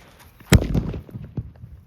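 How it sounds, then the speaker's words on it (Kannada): A firecracker bomb bursts under a mound of Holi colour powder, one sharp loud blast followed by a short rumbling decay and a smaller thump. "ಒಂದು ಪಟಾಕಿ ಒಂದು ಬಾಂಬ್ ಇಕ್ಬಿಟ್ಟು ಬಿಡೋದು"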